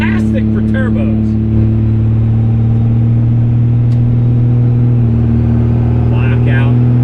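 A 1000HP Cummins diesel truck accelerates hard in cold weather, its engine droning loud and steady from inside the cab while a voice is briefly heard over it.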